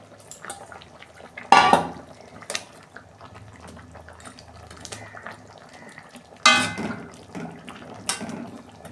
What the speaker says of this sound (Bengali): দেখুন বন্ধুরা, ঢাকনাটা খুলছি।